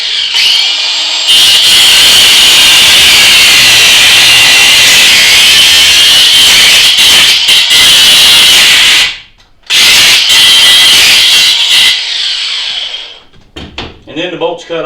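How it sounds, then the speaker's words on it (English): A Ryobi One 18-volt cordless grinder with a thin cutoff wheel cuts through a seat bolt inside a school bus, a loud, close, high whine that grinds steadily, stops briefly, resumes, then winds down. "I use a Ryobi 1 18 volt grinder. Just simply get on the bolt and cut it off."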